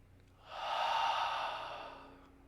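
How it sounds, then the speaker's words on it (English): A single slow, breathy exhale after a deep inhale during a guided relaxation, soft and close, swelling then fading over about two seconds. "Take another deep breath with me and let go on the exhale."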